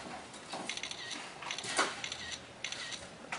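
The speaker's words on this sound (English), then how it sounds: "Now that noise you're hearing is the actual photos being taken." Several quick mechanical clicks in a row from an HTC One S or iPhone 4S phone camera shutter, crisp and close, with one louder snap near the middle over a faint background hiss.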